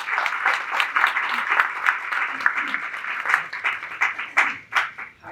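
Conference audience applauding, a lively burst of many hands clapping fairly close, thinning out and fading toward the end with no voices over it.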